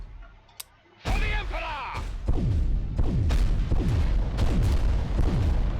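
Volcano cannons on giant war machines hitting enemy Titan shields in Adeptus Titanicus: Dominus, a heavy blast followed by a rapid series of repeated booming impacts with falling whistles, loud and continuous, with talking over it.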